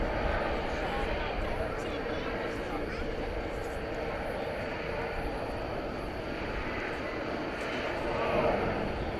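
A Cathay airliner taking off at DFW Airport in the evening, a steady, broad engine roar heard from a distance that holds for several seconds and swells slightly near the end, with faint voices beneath.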